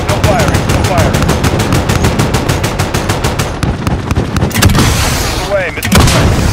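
Rapid bursts of aircraft cannon fire from a Viper attack helicopter in a realistic military combat video game, loud and continuous for several seconds with dense rattling rounds, distant impacts and a short pause before the firing resumes.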